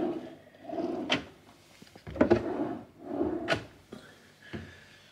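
Wooden drawers of a hotel bedside unit slide open and shut several times in a steady sequence, each movement ending in a soft thud or click, close by in a quiet room.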